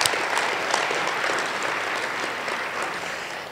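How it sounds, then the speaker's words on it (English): Steady audience applause fills a civic hall during a mayor's 2020 State of the City address, a dense, continuous clapping that stays loud and even for its whole length. "I'll clap for that one"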